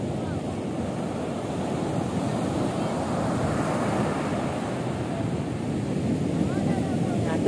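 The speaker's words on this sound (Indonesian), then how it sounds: "tuh pecah tuh ombaknya dari jauh, udah pecah duluan" Steady roar of ocean surf crashing and washing onto the shore at Cemara Beach, Cipatujah, Tasikmalaya, continuous and fairly loud, with wind buffeting the microphone throughout.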